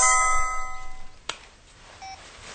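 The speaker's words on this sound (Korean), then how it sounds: "핸드폰 창에 문자 메시지가 떴다." A mobile phone chimes with a text message alert: a bright, tonal ringtone-like melody in the first second, followed by a sharp click and a faint short beep, heard alone and fairly close.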